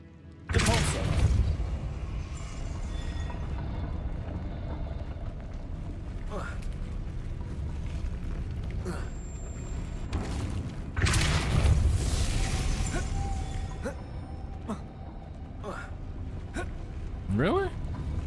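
Spell blasts thump through Hogwarts Legacy gameplay, with loud broadband bursts near the start and around the middle, set over constant game noise and music.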